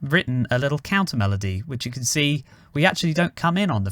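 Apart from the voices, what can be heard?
None of the usual background noises is heard.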